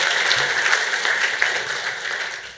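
Audience applause for donors at a fundraiser, a dense, steady wash of clapping from a crowd that holds evenly and fades slightly toward the end.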